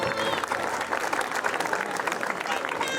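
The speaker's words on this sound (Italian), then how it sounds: "un applauso a Veccia!" Steady crowd applause fills an outdoor Vecia festival in Ponzano Veneto, dense clapping sustained throughout at close range with a faint murmur of voices mixed in.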